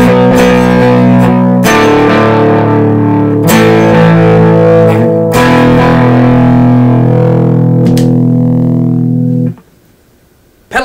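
Electric guitar played through an Echo 6 Baby delay pedal on a large pedalboard, sustained distorted chords with echoing repeats ringing on for about nine seconds before cutting to near silence.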